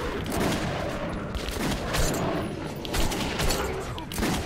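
Rapid gunfire in the video game Metro 2033 Redux, dense and loud, a continuous burst of shots lasting several seconds with a player's voice occasionally audible beneath it.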